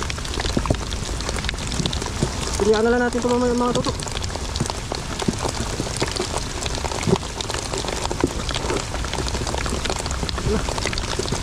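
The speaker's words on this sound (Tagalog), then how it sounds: "Lakas ng ulan." Heavy rain pours down in a dense, constant hiss of drops, loud and close throughout, while someone speaks briefly near the start.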